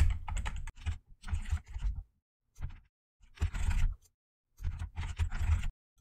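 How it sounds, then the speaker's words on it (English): Clicky typing on a computer keyboard, close and fairly quiet, in bursts of rapid keystrokes separated by short pauses, with no talking. "we can simply type"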